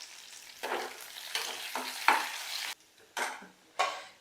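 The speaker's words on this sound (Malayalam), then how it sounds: "കറിവേപ്പില ഇതിലേക്ക് ഇട്ടൊന്ന് നല്ലോണം മൂപ്പിച്ചെടുക്കാം നമുക്ക്." Chopped shallots and curry leaves fry in hot coconut oil for a fish curry, crackling in loud bursts of sizzle broken by brief quiet gaps as the pan is stirred.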